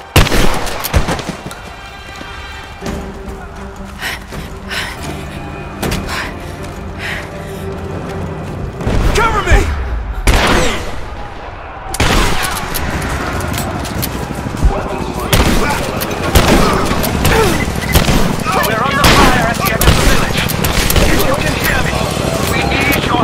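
Dense, loud bursts of gunfire and heavy booms from a firefight in the video game Rise of the Tomb Raider, rattling almost continuously through the stretch with voices and other game sounds mixed in.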